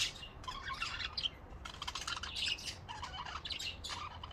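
A pet bird chirps and squawks in bright, rapid bursts of repeated calls, fairly close and continuous with no talk over it.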